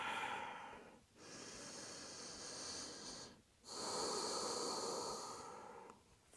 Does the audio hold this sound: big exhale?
yes